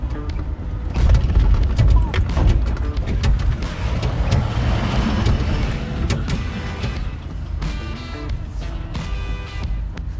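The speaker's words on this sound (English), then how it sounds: "Dump truck is mobbing" A dump truck rumbles past on a road in New Mexico, its low engine roar and clattering body loud and near, swelling and then fading slowly.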